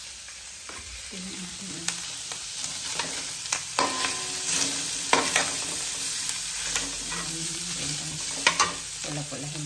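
Bitter gourd and moringa leaves sautéing in a pan: steady sizzle with repeated scraping and stirring knocks, close up, while a voice speaks briefly.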